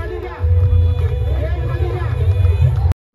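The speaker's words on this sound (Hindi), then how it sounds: "काफी ज्यादा भीड़ हो चुकी है भाई" A large, dense crowd packs the Dahi Handi festival in Anjangaon Surji, Amravati, and a steady roar of babble and shouting fills the air, loud and close, with no single voice standing out.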